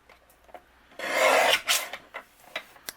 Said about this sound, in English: I'm going to trim this down to a panel that measures 3 3/4 inches by 5